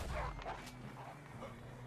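A dog barks a few times in quick succession, fairly faint, over a low soundscape from the video game Red Dead Redemption 2.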